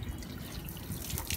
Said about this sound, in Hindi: हैंड वॉश कर लो, हैंड वॉश कर लो।